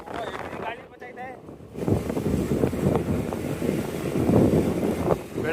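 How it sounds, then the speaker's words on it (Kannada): Outdoor wind gusts buffet the microphone as a broad roaring rush that swells and fades, with someone talking throughout. "ಗಾಳಿ ಬರ್ತೈತೆ"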